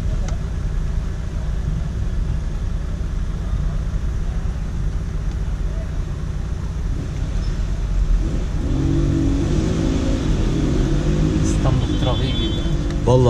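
Steady road traffic rumbles through a town centre in Emirdağ, with engines droning and passing continuously at close range and a car audibly revving near the end.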